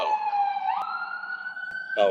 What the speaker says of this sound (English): Oh, ambulance going that way.